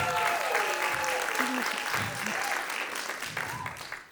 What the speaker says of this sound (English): Big round of applause for Coney Waffle.